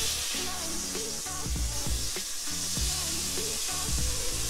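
Smash burger patty flipped on a hot griddle, sizzling and frying loudly and steadily with scraping stir-like bursts through the clip.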